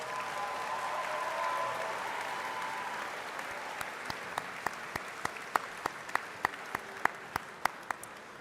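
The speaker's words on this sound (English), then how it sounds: "Please, a big round of applause" An audience at the Waterloo Warriors athletics awards banquet applauds the award winners: a dense wash of clapping for the first few seconds, thinning into a sparse run of individual, evenly spaced claps that stand out sharply near the end.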